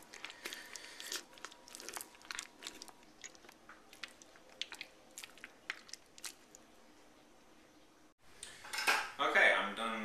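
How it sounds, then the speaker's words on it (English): Honeycomb mashed in a 5-gallon bucket during a July honey harvest, with scattered sticky crunches and clicks from a cutting tool working through the comb, quiet and close, then a louder burst of scraping near the end. "I'm done mashing up the mess in my trusty 5-gallon bucket"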